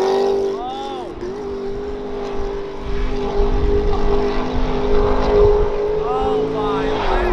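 Mazda Miata with a swapped LS V8 engine running a banked oval, a steady loud drone with pitch sweeping up and down through shifts, with a voice talking over it at moments.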